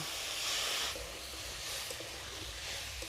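Red lentils fry in a pan over potato and papaya pieces, giving a steady, soft hiss that runs throughout at low volume with no voices.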